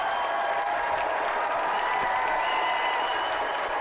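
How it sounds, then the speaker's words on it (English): A studio audience of children cheers and applauds at a GamesMaster TV show taping, a dense, steady wash of clapping and crowd noise held at one level throughout. "Cheering children."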